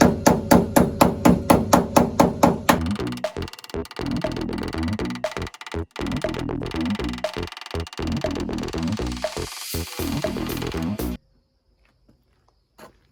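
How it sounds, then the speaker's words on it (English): Rapid hammer blows on a car body panel ring out close by, first a steady series of distinct strikes, then a dense, irregular flurry of clanging hits before stopping. "all I'm going to do is I'm going to hammer it tight."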